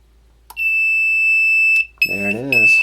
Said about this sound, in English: the alarm is still going off